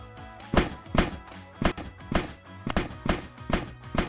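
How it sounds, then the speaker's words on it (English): In Hydroneer, an object bangs around in the back of a truck, giving a run of loud, close thuds and knocks at an uneven but steady pace. "Now you're banging in the back of the truck."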